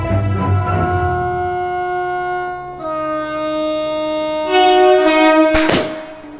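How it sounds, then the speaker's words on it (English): A train horn blares in long sustained tones, then shifts pitch and grows louder near the end, with rumbling rail noise underneath. "it's a train arriving."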